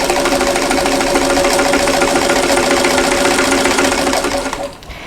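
A vintage sewing machine runs at a steady, rapid clatter while stitching a Kansas Star quilt block, loud and close, then slows and stops near the end.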